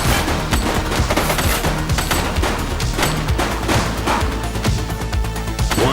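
Rapid, dense gunfire from a suspect in The Precinct video game, continuous loud bursts of shots crackling over one another for several seconds with no pauses.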